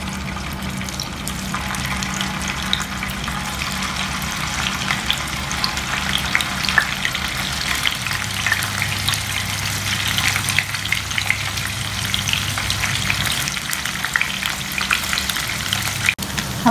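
Halved boiled eggs fry in hot oil with a steady, close bubbling sizzle and scattered spitting crackles throughout, no voices present.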